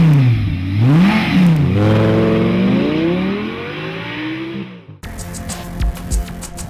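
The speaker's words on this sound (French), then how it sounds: "Là vous avez un V10 5 litres 2 de 525 chevaux." Audi R8 V10 5.2-litre engine of 525 horsepower revving hard, loud rising and falling throttle blips climbing to a high wail before cutting off, then a lower idling rumble with mechanical clatter.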